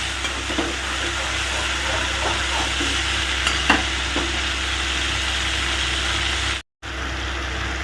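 Spices with salt and a little sugar are stirred in hot oil for a prawn curry with green banana. A loud, steady sizzle runs throughout with scattered stirring scrapes and a brief dropout near the end.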